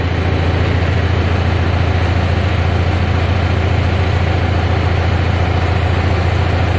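A tractor idles with its hitch being raised and lowered, giving a loud, steady engine rumble with constant vibration and no clear change in pitch, with no talking.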